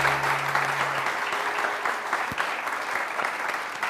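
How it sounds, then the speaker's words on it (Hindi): Loud, dense studio audience applause on a Hindi TV show, steady clapping filling the room for about four seconds with a low hum briefly underneath at the start. "बहुत सारी तालियां बिनीता डेविड के लिए"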